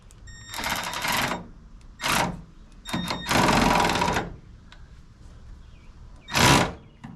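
Small 3/8-inch power wrench tightening bolts while dropping the body onto a Chevelle restomod: several loud whirring bursts of varying length with short pauses between, close up.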